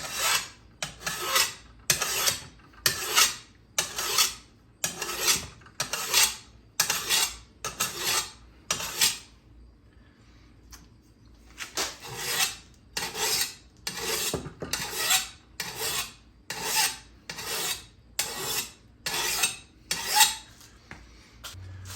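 Steady back-and-forth rasping of a mill file sharpening a lawn mower blade along its factory bevel, loud and close, stroke after stroke in an even rhythm with a short pause midway.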